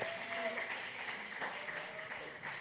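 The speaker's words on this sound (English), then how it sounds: "another round of applause for them." Steady applause from a crowd fills the space, a continuous patter of clapping heard at a moderate distance.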